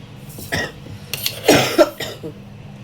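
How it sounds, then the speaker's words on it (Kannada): A few short, harsh coughs close by, in quick succession over a quiet background. "ಇನ್ನ ಕೆಮ್ಮು ಹಂಗಾಯ್ತ್ರಿ"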